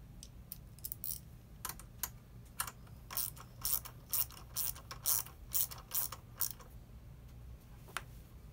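An eight millimeter bolt on a bike's rear brake is turned back in with a tool, giving a series of quick close ratcheting clicks in short bursts, faint and without talk.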